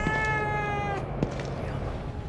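A cat in the video game The Evil Within 2 gives a single clear, drawn-out meow close up, followed by soft background game ambience.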